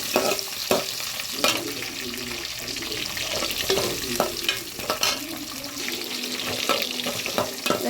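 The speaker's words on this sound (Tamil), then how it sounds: "வெங்காயம் போட்டு நல்லா கிண்டணும், நல்லா வதங்கணும்." Onions being stirred and sautéed in a pan for a Tamil mochai bean and dried fish curry, with steady sizzling under repeated scraping strokes of a spoon against the pan, close and continuous.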